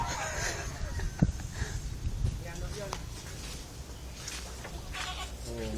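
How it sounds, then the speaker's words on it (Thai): A Boer goat kid bleats on a goat farm in Narathiwat, Thailand, with short calls and other farm animals faint in the background while people talk nearby. "อ่านั่นลูกแพะพันบอนะครับ"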